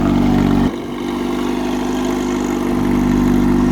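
A 1955 Micromax tractor runs with its Peugeot 203 petrol engine, a steady low rumble that dips briefly and then settles back into an even idle, loud and close.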